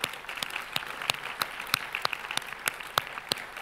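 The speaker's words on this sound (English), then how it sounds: "You will hear a rousing round of applause as you walk across this way." A thin round of applause at a plenary talk as someone walks across the stage, with scattered individual claps standing out sharply in an uneven, moderately distant rhythm.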